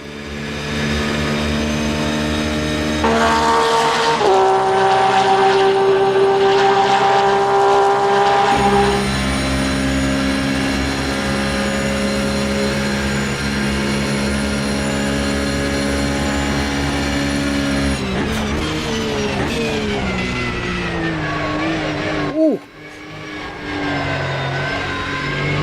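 Race car engine from the outside view in the sim racing game Automobilista 2 at Le Mans endurance, a loud sustained high-revving drone with gear changes shifting the pitch, a sharp downshift dip near the end, no talking.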